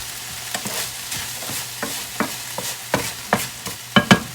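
Stir fry sizzles steadily in a hot pan for pineapple chicken fried rice, with a dense crackling hiss broken by sharp scraping and clanking spatula strokes that grow louder toward the end.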